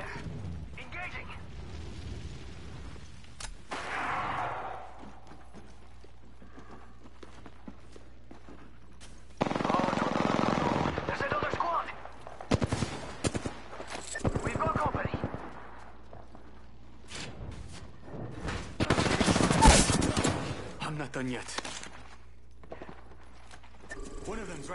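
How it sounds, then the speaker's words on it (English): Gunfire in Apex Legends comes as loud rapid bursts of shots separated by quieter stretches of mechanical clicks, reloading and footsteps, with voices speaking between the bursts. "Getting shot at."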